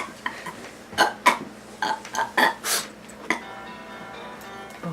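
A one-year-old girl eating at a cabin lets out a series of short, throaty burps and grunts, scattered irregularly and close.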